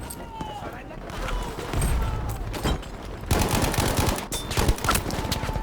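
Dense gunfire in Battlefield V, overlapping bursts and single shots near and far under someone talking, growing heavier in the second half.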